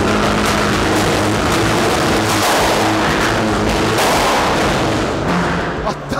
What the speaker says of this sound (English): Rev it up, bro.